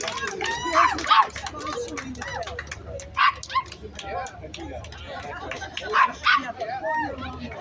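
A dog at an outdoor street rally gives a few short yips and barks amid a crowd's chatter, with several voices talking over it.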